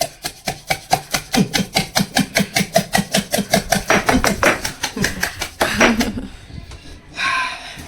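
Raw onions pounded by hand with a covered pestle in a village-style kitchen for a country chicken curry: a close, steady run of about twenty sharp, rhythmic thuds, then a few heavier scraping blows before stopping.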